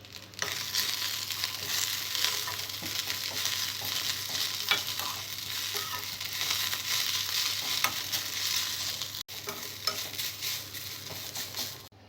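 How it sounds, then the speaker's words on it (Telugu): Mint leaves fry in a pan with soaked tamarind for a pickle, a continuous close sizzle with soft stirring and occasional light scrapes that runs steadily throughout, with no talking. "పుదీనా ఫ్రై అవుతున్నప్పుడు ఇందులో కొద్దిగా నానబెట్టిన చింతపండు వేసుకోవాలి."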